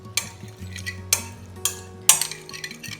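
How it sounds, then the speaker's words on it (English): Fork stirring extra virgin olive oil and fresh lime juice together in a bowl, with several sharp clinking strokes against the side amid softer swishing, close up and with no voices. "Mix together."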